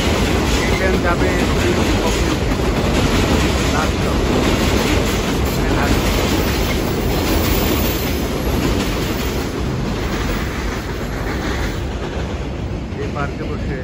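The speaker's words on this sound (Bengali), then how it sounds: "উপর দিকে আমাদের সাবওয়ে গাড়ি" An elevated subway train in Parkchester, Bronx, roars by overhead, a sustained loud rumble with wheel-on-rail clatter that eases slightly toward the end, heard nearby without interruption.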